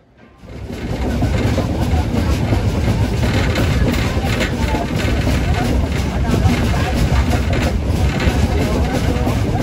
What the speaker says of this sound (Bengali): ট্রেন 6:52-তে হাওড়া স্টেশনকে বিদায় জানিয়ে রওনা দিল দীঘার উদ্দেশ্যে